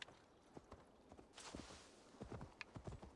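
A horse's hooves clip-clopping in the Assassin's Creed Valhalla video game, a quiet, uneven series of soft thuds as the animal moves, heard faintly with no talking.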